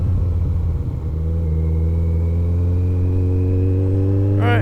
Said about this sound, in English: The bike still sounds like it's running.